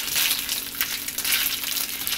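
Bacon fries in a pan with a dense, steady crackle and hiss that stays close and fairly loud throughout, with no voices over it.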